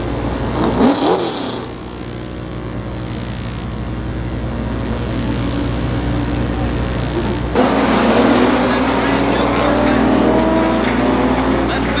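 A brand new late model race car revs its engine at Columbus Motor Speedway during a 1995 season opener, loud and sustained. The pitch rises sharply partway through as the throttle opens, over steady crowd and track ambience.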